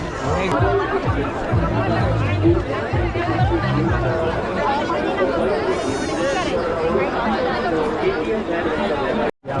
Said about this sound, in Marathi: जबरदस्त गर्दी आहे मित्रांनो